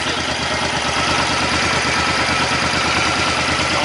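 2012 Suzuki Boulevard C50T motorcycle engine idling, a loud, close, steady rumbling throb with no talk.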